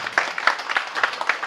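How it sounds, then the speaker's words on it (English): An audience at a Rotary club event gives a brief round of applause, dense clapping that carries on steadily for a moment. "deserved round of applause"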